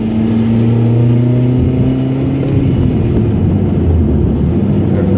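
A car engine drones loudly and steadily, its tone gliding as it pulls through a gear change into third, with constant road rumble and no voices.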